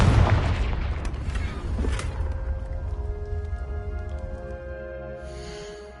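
In the Hogwarts Legacy video game, a Confringo blasting spell sets off a heavy, booming explosion that hits hard at once and then rumbles and decays over several seconds.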